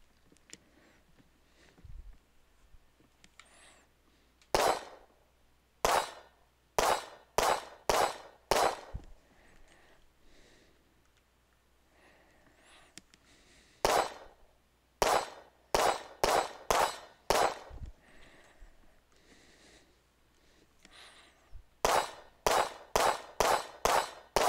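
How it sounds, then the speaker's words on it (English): Rifle rounds striking a metal Christmas tree target outdoors, each hit a sharp ringing clang; bursts of several rapid impacts in clusters separated by pauses, no talking. "It makes a cool clangy sound and the things move and yeah, it's pretty neat."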